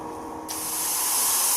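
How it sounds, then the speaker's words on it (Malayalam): Chicken frying in hot oil, the sizzle jumping suddenly from a quiet background into a loud, dense, steady hiss that keeps growing. "ചിക്കൻ പൊരിച്ചെടുക്കാം."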